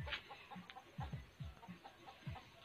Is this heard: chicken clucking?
yes